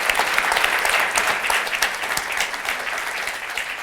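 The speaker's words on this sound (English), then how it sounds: "hold your applause" Lively applause comes from a town hall audience, dense clapping with sharp individual claps standing out, strong at first and easing slightly toward the end.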